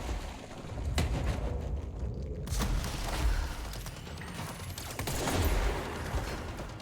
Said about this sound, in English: You're forcing me to use my stupid fucking SMG.